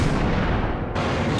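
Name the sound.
sniper rifle fire in Max Payne video game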